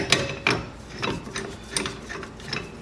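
A ball joint press being tightened on a Jeep TJ gives a run of crisp metallic ratcheting clicks at an uneven pace, close by and clear, with no talk over it.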